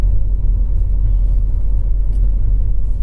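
A steady, loud low-frequency road rumble fills the cabin of a BMW X1 with an N47 engine, repaired after a timing chain failure, as it is driven on local roads, with no talking.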